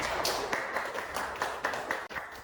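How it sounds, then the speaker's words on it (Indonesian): Classroom applause after a micro-teaching presentation, steady moderate clapping from a small group with a few sharper individual claps, continuing through the short stretch. "beri tepuk tangan untuk Dewa."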